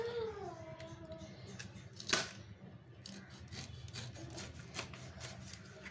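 A knife scrapes and rasps as it pares the skin from a small halved jackfruit, a steady low scratchy rubbing with scattered clicks and one sharp louder crackle.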